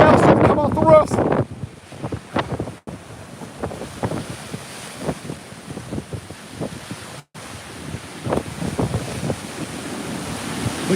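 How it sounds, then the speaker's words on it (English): Violent storm surge waves from Hurricane Milton crashing near houses in Sarasota, Florida, surging and splashing repeatedly amid heavy wind rumble, with a voice speaking loudly at the start and intermittent talk after. "Look how fast and violent these waves are."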